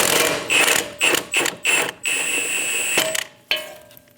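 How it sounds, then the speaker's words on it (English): A 21mm socket ratchet works the upper ball joint nut on a 2011-2027 Dodge Durango 5.7L V8 front suspension, giving close, loud bursts of rapid metallic clicking in an uneven rhythm with short pauses between strokes. "Using a 21mm socket, we are going to remove the upper ball joint nut"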